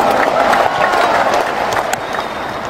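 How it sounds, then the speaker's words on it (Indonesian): Dense, loud applause from a large crowd at a political rally in a stadium, continuous clapping throughout with faint cheering mixed in. "Kita berikan tepuk tangan untuk itu."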